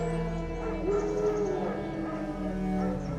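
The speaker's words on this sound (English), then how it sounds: "No. Wild dogs." Wild dogs in The Witcher 3 video game give off yips, whimpers and bow-wow barks, moderately distant, over a steady tonal ambient game soundtrack for a few seconds.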